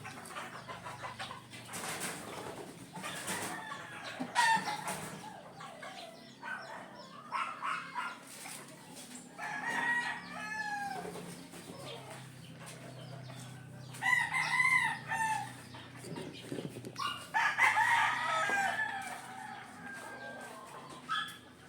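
Roosters and young stags crow repeatedly at feeding time, several drawn-out calls rising over a steady bed of clucking hens and farmyard bustle, fairly close and loud throughout.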